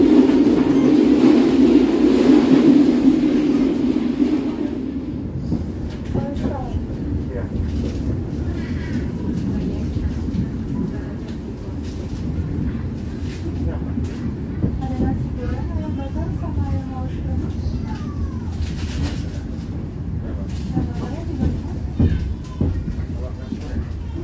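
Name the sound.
train running on old rails, cabin noise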